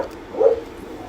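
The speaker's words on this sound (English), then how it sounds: "that is Padfoot barking, if you heard that." A dog gives a single short bark partway through, fairly close and moderately loud against a quiet room, with nothing else following it.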